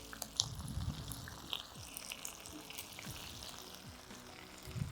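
Marinated fish wrapped in banana leaf frying in a pan, a steady soft sizzle with low crackles and occasional scrapes as it is turned, with no talk.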